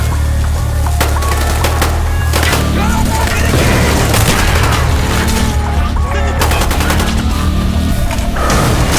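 A grenade blast and bursts of gunfire in the Call of Duty Black Ops video game, loud and close, with repeated sharp shots and booms over a continuous low battle rumble.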